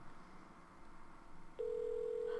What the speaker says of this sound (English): Who's ringing the phone?